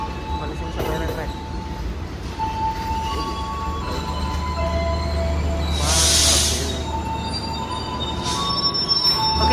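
A commuter train pulls into Probolinggo station at night, bringing a steady rumble, high metallic wheel squeals and brief clinking, with voices faintly audible under the train noise.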